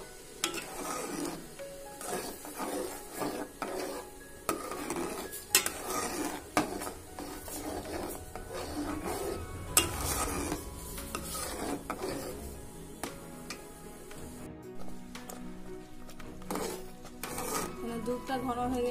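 A spoon stirs thickened milk with Gobindobhog rice, raisins and cashews for payesh in a pot, giving repeated scrapes and light metallic clinks at an uneven pace over a steady, faint background hiss.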